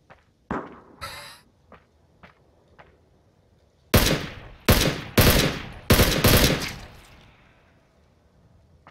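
Gunfire in the shooter Ring of Elysium: a few scattered single shots, then a loud close sequence of sharp, rapid bursts before the sound fades out.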